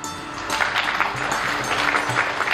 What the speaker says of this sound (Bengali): আজকে আমি সবাইকে বলবো একটা হাততালি দিতে